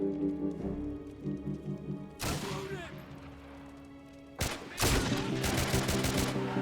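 Rifle shots in the World War II shooter Battlefront Europe, two loud sharp bursts cutting through a quiet musical backdrop, the second followed by crackling echoes and debris.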